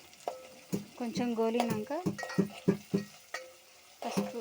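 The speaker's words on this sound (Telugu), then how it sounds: "కొంచెం కరివేపాకు వేసుకొని కలుపుకోవాలి" Curry leaves fry and are stirred in a pan for a crab curry, giving soft scraping strokes and light sizzle beneath someone talking steadily in Telugu.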